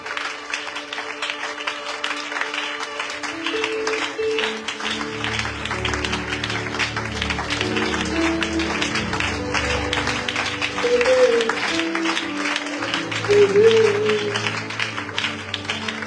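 A church congregation applauds and acclaims the Lord during a worship service, with sustained clapping and crowd noise over a background of music tones. Voices rise briefly near the end.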